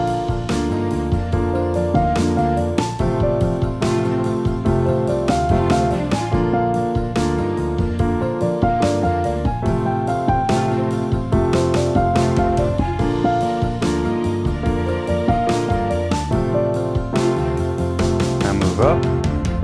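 Piano playing the chorus of a song at an intermediate arrangement level, steady rhythmic chords with a moving bass line, continuous and fairly loud throughout.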